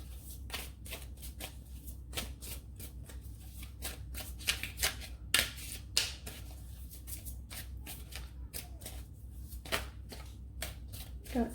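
Tarot cards shuffled by hand in a quiet room, a close, steady series of soft riffling slaps and flicks continuing throughout at an even rhythm.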